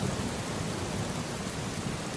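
Steady rain pours down with a dense, even hiss, broad and continuous, while a deep low rumble of thunder rolls underneath throughout.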